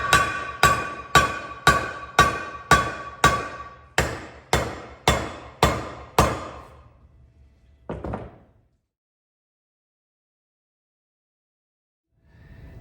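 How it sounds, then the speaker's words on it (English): About a dozen sharp metallic hammer blows drive an intermediate shaft into a Total Metal Innovations Magnitude 205 metal case, in a steady rhythm, close and loud, followed by a final double strike and then silence. "So we're just gonna hammer this in."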